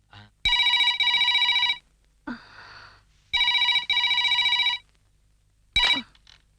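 A landline telephone at a professor's home rings late at night in two bright double-ring bursts, close and clear, followed by a brief breathy sound.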